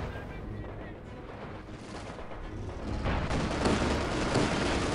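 Gunfire and explosions hit a headquarters in the World War II strategy game Company of Heroes 2, a dense, continuous battle din of rattling shots and booms that swells louder in the second half.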